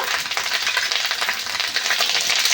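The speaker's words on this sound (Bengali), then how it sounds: "দিয়ে বেশ কষে নেব, একটু নেড়ে চেড়ে নেব।" Ground cumin and coriander paste fries in oil in a pan while being stirred, a steady close sizzle with soft scraping and no voices.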